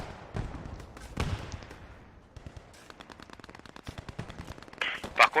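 Gunfire in Post Scriptum rattles in scattered bursts and rapid automatic strings at varying distances, sharp cracks over a low rumble, growing louder and denser toward the end.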